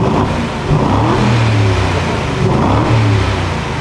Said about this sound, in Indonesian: Tapi ketika kita ngegas dia mengizinkan sampai 5000 sebelum balik ke 4000 lagi, dan cukuplah ngegas sampai 5000 tuh.